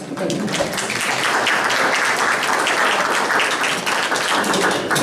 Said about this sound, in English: I think these people deserve a round of applause